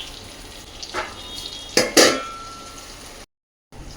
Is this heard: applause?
no